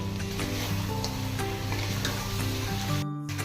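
Whole garlic cloves hit a frying spice paste for a duck curry, giving a steady, close sizzle and crackle with faint stirring that holds throughout.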